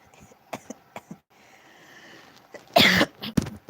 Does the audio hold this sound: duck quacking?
no